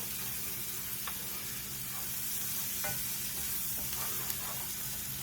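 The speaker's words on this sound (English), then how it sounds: "Also some butter. I want that rice to take on the oil." Rice frying in butter and oil, a steady close sizzle and crackle with occasional faint pops and light stirring, continuous and even throughout.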